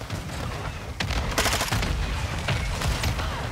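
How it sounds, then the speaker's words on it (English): Explosions and gunfire from mortar strikes in the video game Modern Warfare 2, a dense, loud barrage of booms and bursts running steadily throughout, with no speech. "It's fucking mortar strikes,"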